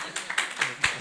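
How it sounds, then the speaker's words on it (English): An indoor audience at a university hub launch gives the speaker a brief round of applause, a few loose, separated claps rising and falling over about a second. "a round of applause"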